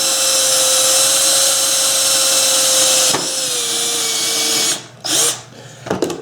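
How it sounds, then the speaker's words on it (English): A power drill whines loudly at a steady high pitch, then drops in tone as it bites into material while building a bobsled, ending with brief stops and restarts. "And then just going to drill a hole there."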